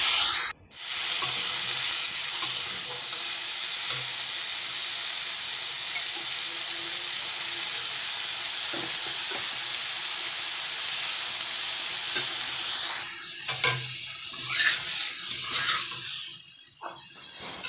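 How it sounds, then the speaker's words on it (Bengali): Onion paste, tomato and green chili masala frying in a pan for a fish curry with cauliflower and potato, giving a steady loud sizzle throughout, with occasional stirring scrapes and clinks near the end. "এতিয়া মছলাখিনি ধুনিয়াকৈ ভাজ খাই গৈছে"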